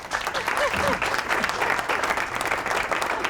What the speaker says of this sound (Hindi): सही है जी, तालियां हो जाए।